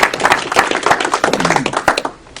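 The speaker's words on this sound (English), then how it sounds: "Let's give him an applause." A small audience claps for a few seconds, close and crisp hand slaps in a fairly sparse burst that tapers off at the end, with no speech over it.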